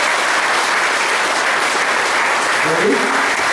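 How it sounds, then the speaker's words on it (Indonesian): Audience applause, a dense continuous roar of many hands clapping, loud and sustained the whole time, with a brief voice rising near the end. "Tepuk tangan."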